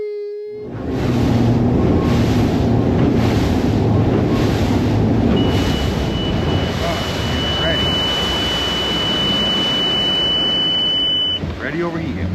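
A Nitro Z20 bass boat's outboard motor runs under throttle on Lake Toho, a loud, continuous engine and wind roar. Partway through, a high electronic overheating alarm begins beeping steadily over the engine.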